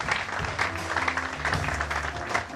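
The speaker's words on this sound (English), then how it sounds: "Let's give Grace a round of applause." Applause for an award winner at a gala night, a steady broadband clatter of many hands clapping continuously at moderate volume for the full stretch, with a low murmur underneath.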